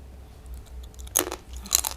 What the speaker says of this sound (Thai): มะเขือปูคำแรก